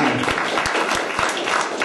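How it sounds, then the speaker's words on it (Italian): A congress audience of the Radical association Per la Grande Napoli bursts into sustained applause for Marco, a dense, steady roar of many hands clapping close by, with no voices over it. "io da qua farei partire pure un applauso a"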